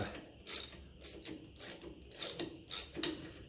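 Ratcheting clicks from a wrench tightening a threaded bolt on a 1957 Ferguson 35 TVO tractor, heard close in about seven short, evenly spaced bursts with no talk.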